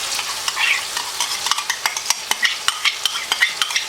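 Yogurt being stirred into biryani masala in a pan, with a steady frying sizzle broken by repeated sharp scraping clicks of the spoon, close and clear with no talk.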